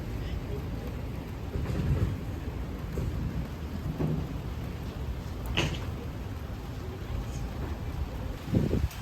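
Thunder rumbles low and heavy beneath steady rain at an outdoor market, with a few louder rolls standing out across the stretch.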